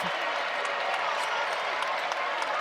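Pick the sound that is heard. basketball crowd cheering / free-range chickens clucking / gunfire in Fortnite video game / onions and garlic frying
basketball crowd cheering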